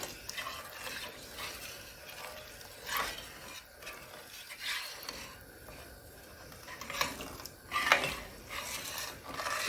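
A utensil scrapes and stirs across the bottom of a pot of chicken broth for Cajun chicken, giving soft, uneven rasping strokes with a faint sizzle throughout, close and quiet.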